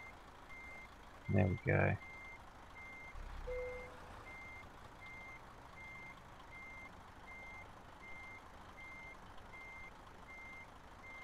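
A truck's reversing alarm in Euro Truck Simulator 2, driving a MAN TGA XXL, beeps in a steady evenly spaced series throughout over a low engine hum, with a brief spoken remark and a short air hiss near the start.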